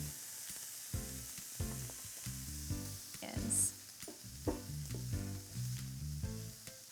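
Finely minced carrots and garlic frying in a pan for shrimp fried rice, a soft continuous sizzle under a gentle, rhythmic stirring and scraping, with faint spoken talk in the background.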